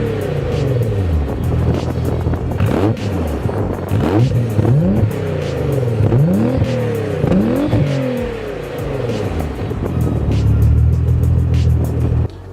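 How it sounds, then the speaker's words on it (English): A 1990 Nissan 300ZX Twin Turbo with its VG30 engine and aftermarket exhaust revs repeatedly, loud and close, each blip rising sharply and falling back to a rumbling idle between pulls. "VG30 motor here just sounds nasty, especially with the exhaust that's on this car."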